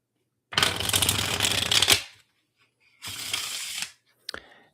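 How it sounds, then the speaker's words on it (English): A deck of tarot cards shuffled close by in two quick riffling bursts, the first longer than the second, followed by a brief crisp snap as the cards settle. "They shuffle incredibly well."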